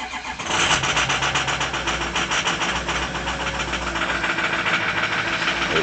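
A 2005 Ford F250 Crew Cab XLT with the Powerstroke diesel fires up in 24-degree cold after a brief pause, then settles into a loud, close, steady clattering idle with a slight stumble.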